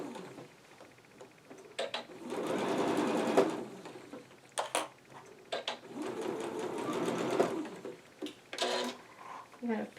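A sewing machine stitches a fabric mask at regular stitch in rapid whirring bursts, stopping and starting, with someone talking between runs.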